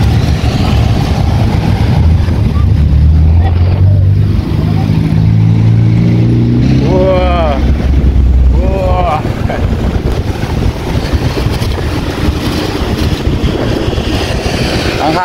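On the deck of a RoRo ferry at sea carrying many vehicles, strong wind roars and buffets the microphone over the ship's low engine rumble. A person talks briefly partway through.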